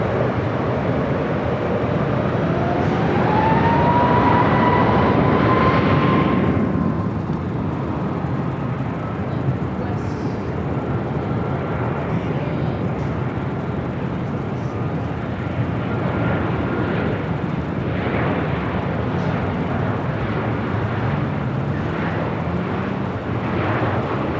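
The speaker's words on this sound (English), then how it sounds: "We'll be following WestJet flight 1510 coming up from Calgary in a 737-800." An airliner approaching LAX, such as a Boeing 737-800, gives a loud, steady jet roar with a rising whine that peaks early and then eases into a broad, fading rumble as the aircraft passes overhead.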